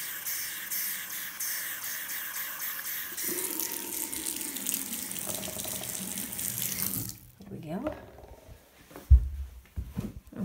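Water running from a tap to refill a bottle, a steady loud rush for several seconds that stops abruptly, followed by quieter handling clatter and a thump.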